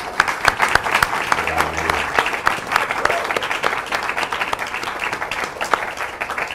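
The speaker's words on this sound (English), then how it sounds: "I mostly want to thank our panel, who I think we should all give another round of applause." An audience at a human rights panel event on intersex surgeries applauds the panel, steady dense clapping from a roomful of people that holds evenly throughout, fairly close and without speech.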